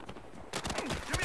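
A sniper rifle shot in a multiplayer shooter game, a sharp broadband crack bursting in after a quiet half-second, followed by busy gunfire-like clatter and game noise with no talking.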